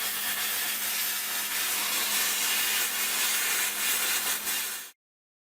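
A plasma cutter slicing through steel for a Ram 1500 frame in a backyard, a loud, steady, close hissing roar that holds for about five seconds and then cuts off abruptly into silence.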